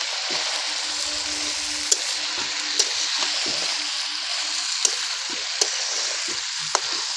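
Desi chicken curry cooking in a pan gives a steady, close sizzle throughout, broken by several sharp clinks and scrapes of a spoon against the pan as it is stirred, with a low faint hum underneath.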